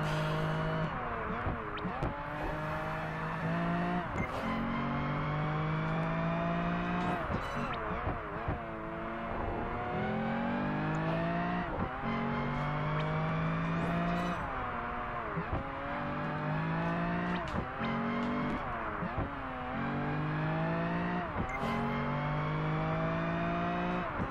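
Race car engine in Project Gotham Racing 4 on a Canada circuit, screaming up through repeated gear shifts with brief tire noise, steady and loud for the whole stretch with faint talk.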